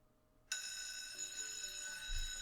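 A phone rings continuously with a bright, steady electronic tone that starts abruptly and holds, close and fairly loud, with no talk over it.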